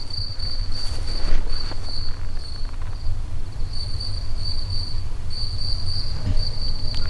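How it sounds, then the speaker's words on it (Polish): Steady, shrill cricket chirping repeats in pulsing bursts over a low rumble of wind, continuing throughout with no voices. "świerszcz."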